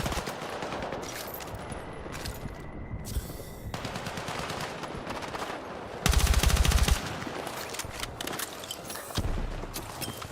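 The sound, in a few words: shotgun fire in a Call of Duty video game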